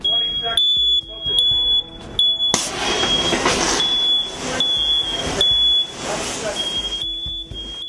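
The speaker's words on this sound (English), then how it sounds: "I hear a smoke detector go off." A smoke alarm beeps with a steady, shrill high tone, loud and close, during a fire training burn in an acquired house, while rushing noise and a voice come and go beneath it.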